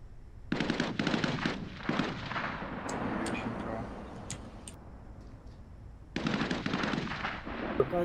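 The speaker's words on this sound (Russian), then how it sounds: "Какая-то стрельба вообще, блядь, лютая." Heavy gunfire in the shooter game Arena Breakout: Infinite, dense bursts of shots that pause midway and then start again, close and loud, with a few sharp ticks in the quieter stretch.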